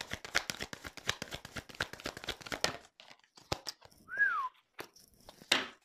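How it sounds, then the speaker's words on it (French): During a tarot card reading, a person lets out a single short whistled note that glides downward, heard alone just after a stretch of rapid, crisp card shuffling. "Je siffle et tout, quoi."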